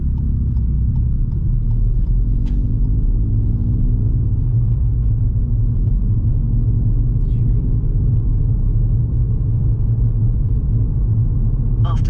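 Car engine in second gear held with clutch control, rolling slowly up to a junction on a driving test; a steady low rumble from inside the cabin, loud and constant throughout with no talking.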